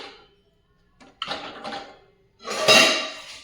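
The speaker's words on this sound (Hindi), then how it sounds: "मैं थोड़ा देर इसको बस धो के ऐसे रख देती हूँ सबको" Dishes and utensils get rinsed by hand in an Indian home kitchen before going into a dishwasher, with close clinks and clatters of pots and cutlery and a longer rush of handling near the end.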